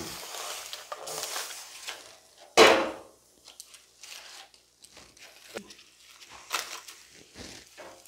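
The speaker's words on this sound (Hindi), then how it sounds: "तो हम थाली को हटाएंगे और इसे एक बार पलट देंगे।" A metal plate lid clatters sharply once as it is lifted off a pan of cooking chicken pitha, followed by softer scraping and shuffling as the pitha is flipped, with quiet sizzling between.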